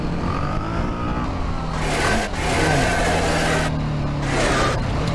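A motorcycle engine revs hard on a quiet street, its loud, close roar rising and falling through several throttle bursts with brief drops between, heard alone without talk.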